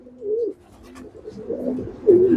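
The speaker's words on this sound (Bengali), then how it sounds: "আমার কবুতর কিন্তু রসুন পানিগুলো খাচ্ছে" Pigeons drinking garlic water give several low, rolling coos, close and fairly loud, with short pauses between calls and no talking.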